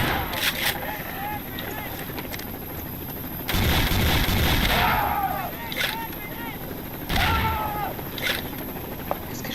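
Bursts of machine gun fire in the game Garry's Mod rattle loudly in several rapid volleys, with a person talking over and between them.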